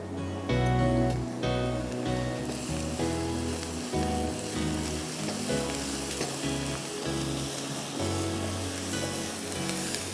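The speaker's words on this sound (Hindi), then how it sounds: "इसको हमने थोड़ा सा भूनना है ताकि गार्लिक की कच्ची कच्ची स्मेल ख़त्म हो जाए।" Garlic paste frying in a pan gives a steady, close sizzle for the whole stretch, with music playing underneath.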